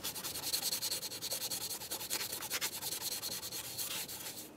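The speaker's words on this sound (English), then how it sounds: "Let's make sure we clean down the area on the EGR valve with some sandpaper." Sandpaper rubs back and forth over the EGR valve area on a 2005-2010 Dodge Dakota during intake manifold replacement, a close, steady rhythmic scratching with regular strokes.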